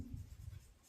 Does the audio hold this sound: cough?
no